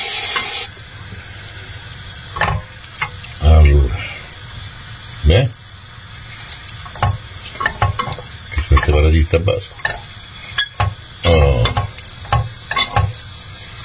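Guanciale frying in a pan as its fat renders for carbonara, a steady sizzle and hiss with occasional stirring scrapes, close, under someone talking in Italian.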